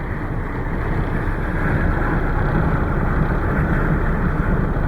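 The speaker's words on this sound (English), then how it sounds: "I don't know if this camera can pick up the power of that wind, but it's blowing." Strong blizzard wind roaring steadily and loudly against the microphone, a dense broadband rush with low buffeting that holds without a break throughout, with no voices heard.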